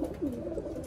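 Pigeons cooing in a loft, a low steady burbling coo that continues through the whole second, fairly close and unbroken.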